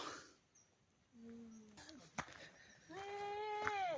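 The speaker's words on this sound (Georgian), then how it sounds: "აი, ძროხა მკიო." A cow lowing at Tsunda Lake, a drawn-out tonal call that rises toward the end, preceded by softer animal or bird calls and light outdoor noise.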